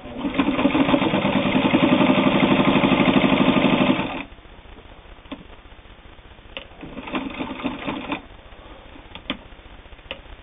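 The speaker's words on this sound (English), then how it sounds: "We're going to sew 2 layers of fairly heavy split leather here." A Singer 301 all-steel sewing machine stitches through two layers of heavy split leather, starting with a fast, loud, even mechanical whirr for about four seconds, then dropping to slower, quieter bursts and clicks.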